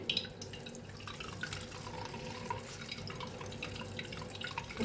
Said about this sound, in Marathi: कसं निघायला लागले पाणी दह्याचं।